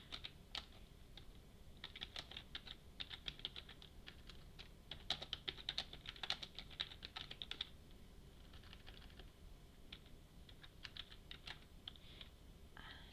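Rapid clicking from a computer keyboard, bursts of quick keystrokes with short pauses, close but quiet, with no talking over it.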